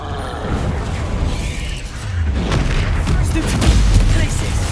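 A Confringo spell explosion in Hogwarts Legacy erupts as a deep, rumbling boom that swells and lingers loudly over dense background noise, with a voice present.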